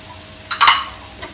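A spoon scrapes briefly through potato kachori stuffing with coriander in a pan: a short, close burst of stirring that fades quickly against a quiet background.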